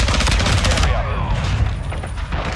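Rapid gunfire from a crowded Shipment match in Modern Warfare 2, a loud chattering burst of automatic shots that thins out into scattered cracks and game effects, with a voice briefly heard under the action.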